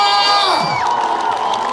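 A large crowd at a Kigali concert closing show cheers and shouts for the singer, a loud continuous roar with whoops rising over music, steady throughout.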